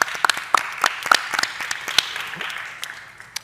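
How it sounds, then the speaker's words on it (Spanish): Audience applause at a cultural presentation, distinct individual claps ringing out near the front over a broader patter, thinning out toward the end. "Un recuerdo especial para mi compañera Andrea, que está aquí con nosotros, que se merece un aplauso también."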